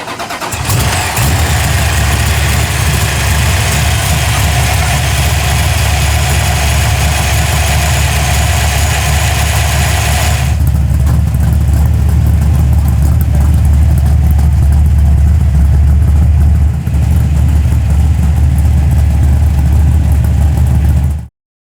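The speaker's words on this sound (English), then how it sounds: "70 Duster with one serious engine there." A 1970 Plymouth Duster muscle car engine rumbles steadily at idle for a long stretch, deep and loud, with a slight shift in tone partway through.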